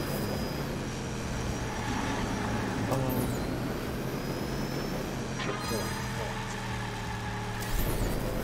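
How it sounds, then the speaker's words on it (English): A garbage truck in the Hot Wheels Unleashed racing game rumbles with a steady engine drone amid continuous race noise, with occasional whooshes and passing swells, while a person talks over it. "Fuck you, garbage truck, you always in my way."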